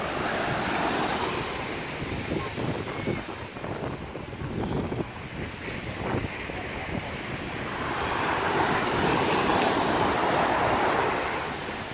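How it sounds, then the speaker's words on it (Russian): Surf rushes and washes over the shore in a continuous roar, with wind buffeting the microphone and a wave swelling louder toward the end. "Как красиво вода уходит с волной."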